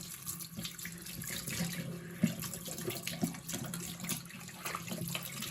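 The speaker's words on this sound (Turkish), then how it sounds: "Sol üst kısma jileti sürüp suyu açarak jileti yıkamaya başladı." A tap runs steadily while a razor blade is rinsed under it, producing a continuous close splashing rush with a few small clinks and knocks, and no talking.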